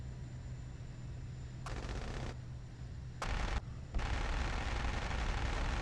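Rapid gunfire bursts from a fighter jet's cannon during a gun run in a combat flight video game, a few short crackling volleys ending in a sustained roaring burst.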